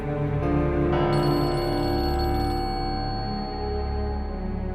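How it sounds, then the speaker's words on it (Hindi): A phone rings loudly and continuously with a bright electronic ringtone melody, sustained and close, with no voices over it. "यार मेरा फोन बज रहा है"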